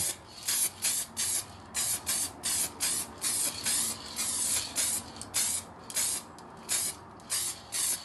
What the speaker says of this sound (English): spray a few coats of the matte lacquer just on the tile